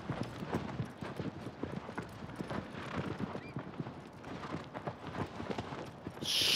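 Horse hooves in the video game Shadow of the Colossus beat out a steady, rhythmic clip-clop throughout, fairly close, with a louder burst near the end.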